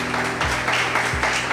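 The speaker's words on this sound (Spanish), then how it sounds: "¿Cuánto le brindan un fuerte aplauso al Señor?" A congregation applauds at a church prayer and fasting service, steady dense clapping filling the room and staying fairly loud throughout with no pause.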